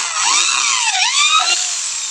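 A power drill with a dull bit whines loudly at close range for about two seconds, its pitch dipping and rising as the bit bites into bamboo.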